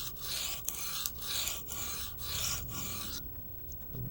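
A knife is sharpened on a cinder block, giving about seven rhythmic, gritty rasping strokes close up, each lasting about half a second, before it stops.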